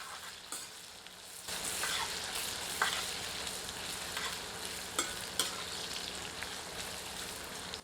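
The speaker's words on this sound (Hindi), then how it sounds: "गर्म तेल में प्याज की फांकियों को भूनकर भूरा कर लेते हैं।" Onion slices frying in hot vegetable oil in a kadai, a steady close sizzle with occasional stirring scrapes and pops after the oil flares up early on.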